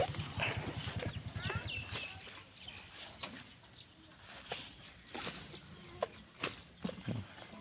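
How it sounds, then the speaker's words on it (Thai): Horse hooves clip-clopping on hard ground, a quick run of close, distinct knocks at the start followed by scattered single hoof strikes at moderate loudness. "เห็นน้องม้านะครับ"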